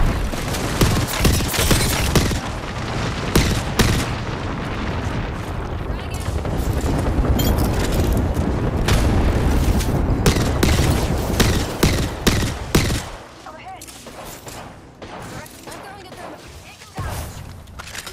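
Dense video game combat: sustained rapid gunfire and heavy booming blasts, including a frag grenade explosion, fill most of the stretch before dropping to scattered quieter shots, with a voice calling out over the din.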